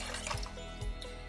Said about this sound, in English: So I've already added in 2 cups of water,